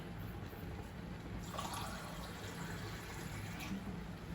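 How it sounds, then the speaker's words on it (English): Water being poured into a pot of vegetable broth, a soft splashing pour lasting about two seconds over quiet background hiss. "adding some more water"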